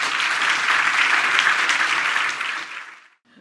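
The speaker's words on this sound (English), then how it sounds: "Let's give them another round of applause." A conference audience claps loudly and steadily for about three seconds, dense hand-clapping that fades out quickly at the end.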